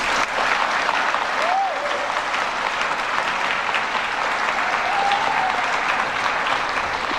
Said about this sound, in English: let's give one more applause to all of our veterans